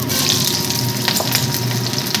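Potatoes fry in hot oil with nigella seeds, making a loud, continuous close-up sizzle with faint crackles throughout.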